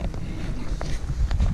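Cold winter wind, about 35°F, gusts across the microphone on a backpacking trail section near Mt Minsi on the Appalachian Trail, a steady low rumble with a few brief buffets.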